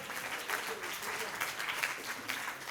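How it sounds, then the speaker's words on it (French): An audience applauds a participant named Bénédicte during a French maths show, with steady, moderately distant clapping spread across the whole moment. "Applaudissements pour Bénédicte, s'il vous plaît."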